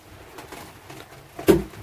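A sea remetuk bird kept in a cage gives soft, faint calls that end in one louder, short coo-like note near the end, close by and with no voices.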